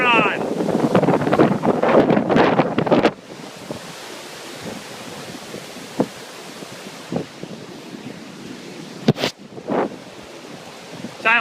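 Hurricane Sandy wind and surf roar as a constant heavy rush of wind noise buffeting the microphone with crashing waves beneath, loud throughout, while a person shouts over it at the start.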